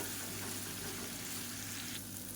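Steady, dense sizzle of raw green plantain pieces shallow-frying in hot oil in a pan, a continuous bright crackle that stays even and close throughout, with no voices.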